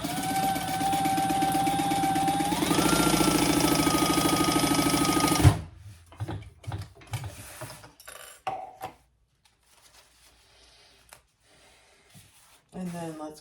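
A sewing machine stitching across the top of a small crossbody bag, a steady fast whirring hum running continuously for several seconds before stopping abruptly, followed by quiet handling sounds and a person talking.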